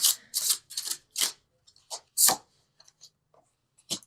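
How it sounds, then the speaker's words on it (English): Angel cards shuffled during a love tarot reading, several loud close bursts of crisp papery riffling separated by short pauses, with a few faint taps, no talking. "Okay, keep shuffling."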